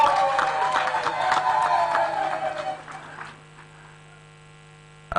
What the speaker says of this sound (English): those must be RDCs clapping